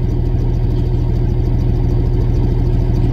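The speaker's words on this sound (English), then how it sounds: "sorry I have to do this with the truck running." A truck engine idles close by with a loud, steady low rumble and even pulsing, unchanged throughout and with no talking.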